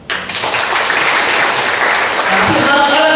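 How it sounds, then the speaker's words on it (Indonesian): Audience at a grand opening event in Parapat bursts into loud, sustained applause that rises quickly and holds steady to the end, with crowd voices mixed in. "Tepuk tangan."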